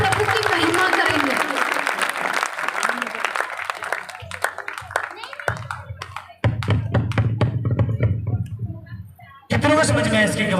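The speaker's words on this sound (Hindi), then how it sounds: "मैं बिल्कुल जोरदार तालियों से प्रभु की महिमा करेंगे।" A church congregation claps during a testimony. Brisk applause is heard at first, then speech and scattered claps alternate, and bursts of louder sound return near the end.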